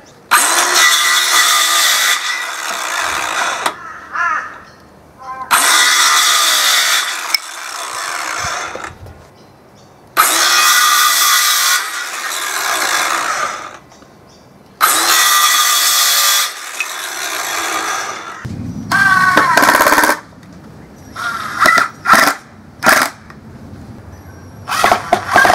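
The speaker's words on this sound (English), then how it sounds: "Now I'm just going to cut all the pegs at 20 centimeters long each" A power saw cuts wooden pegs for an inkle loom in four long, loud buzzing passes separated by short gaps, followed by a few shorter bursts and scattered clatter near the end.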